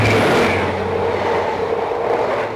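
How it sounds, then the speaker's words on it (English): A train pulls into a small station platform on the London to Hereford line, giving a loud, steady rolling rumble that holds for a few seconds, heard alone without voices. "I can hear a train coming. Here she comes."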